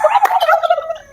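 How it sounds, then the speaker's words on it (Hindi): A turkey gobbling on a farm in Malihabad, one loud, close, rapid warbling burst with no talking. "और ये है टर्की"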